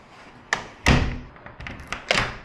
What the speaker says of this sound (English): Lock the top one. Bottom one's locked.